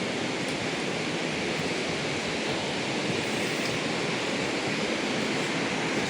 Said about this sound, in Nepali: यस्तो खोला छ, यसलाई मर्स्याङ्दी नदीको छेउछेउबाट गएको छ